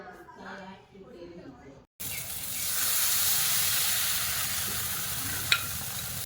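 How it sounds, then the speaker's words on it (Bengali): Chitoi pitha batter poured into an oiled kadai bursts into a loud, steady hiss and sizzle that swells and holds. A voice speaks just before it starts, and one sharp clink follows near the end. "এবার কড়াইতে আমি ব্যাটারটা দিয়ে দেব"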